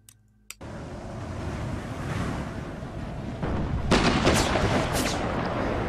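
Artillery fire in the strategy game Empire Total War, a broad rolling roar of distant cannon that builds from a quiet start, with heavier booming bursts in the last two seconds.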